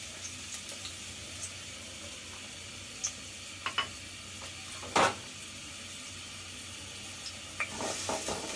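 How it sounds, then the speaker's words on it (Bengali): Chopped onions frying in lightly heated oil in a cooking pot, a faint quiet sizzle broken by a few sparse clicks and one brief louder scrape or crackle. "তেলটা হালকা গরম হলে দিয়ে দিচ্ছি পেঁয়াজের কুচিগুলো"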